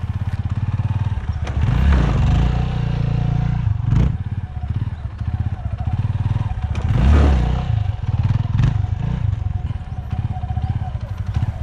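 A Yamaha XT250 off-road trail motorcycle revving on flat ground for a wheelie, loud nearby engine bursts rising and falling in repeated pulses with some clatter, voices faintly present.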